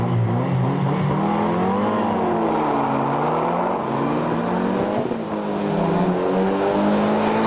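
A Mitsubishi Lancer GSR accelerates hard in a drag race, its engine roaring loud and steady with rising and falling pitch sweeps as it climbs through the gears, close and continuous throughout.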